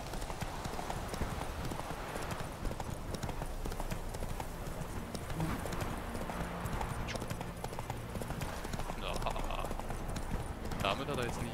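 Horse hooves clip-clop steadily in The Witcher 3, a continuous trotting rhythm heard close, with game ambience and a voice talking over it.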